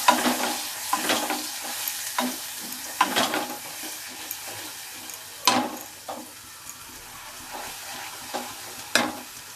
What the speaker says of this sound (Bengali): এই যে পেঁয়াজ টমেটো আর দুটো কাঁচা লঙ্কা ছিল সেগুলো আমি এর মধ্যে দিয়ে দিলাম দিয়ে এবার একটুখানি নেড়ে নেব